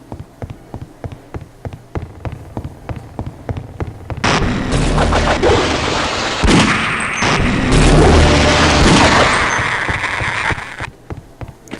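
Pistol shots from Half-Life: Opposing Force: a steady series of sharp, evenly spaced reports. They give way to a loud, dense burst of roaring combat noise that fills the rest of the passage before cutting off.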